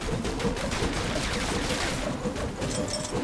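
Dense, continuous gunfire rattles in the co-op video game Full Metal Furies, a loud barrage of rapid overlapping shots with no pause.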